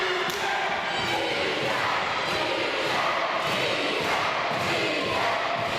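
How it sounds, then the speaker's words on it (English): A wrestling crowd at a W3L showdown chants loudly and steadily in a rhythmic, repeated cadence, with thuds and cheers mixed into the dense roar of the arena. "And this whole crowd chanting easy."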